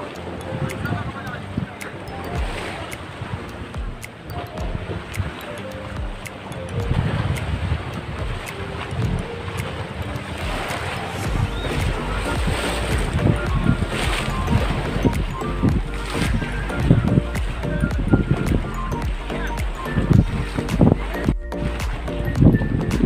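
Water splashes and washes around a boat on Taal Lake in Batangas, with steady wind buffeting the microphone and a continuous rushing roar that builds over the whole stretch, while people talk throughout.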